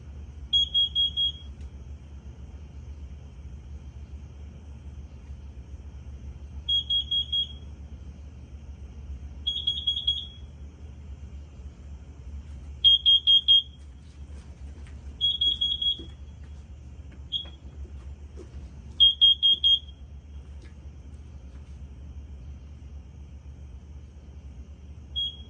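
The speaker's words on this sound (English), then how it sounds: "Oh, now it starts to alarm, huh?" Carbon monoxide alarm going off during a test, sounding repeated bursts of rapid high-pitched beeps at irregular intervals over a low steady hum, fairly faint and with no talking.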